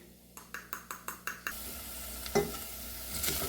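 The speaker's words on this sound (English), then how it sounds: "And I'll give that a little stir round." Onions with curry powder get stirred in a pan for 1940s curried carrots: six evenly spaced taps open, then a soft continuous sizzle with an occasional scrape of the spoon.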